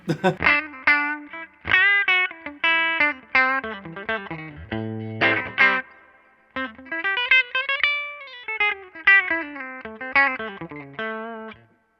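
A Fender electric guitar on its bright bridge pickup rings out in quick picked notes and short melodic runs, a few held tones, and brief pauses between phrases.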